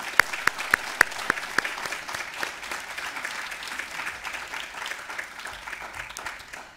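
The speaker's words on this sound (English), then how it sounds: "Let's give them one last round of applause." An audience applauds panel speakers at the close of a university discussion on diversity, a dense indoor round of clapping with a few sharp near claps at the start, fading toward the end.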